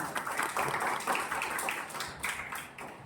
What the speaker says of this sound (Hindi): तो अपने लिए एक बार जोरदार ताली बजा लीजिए।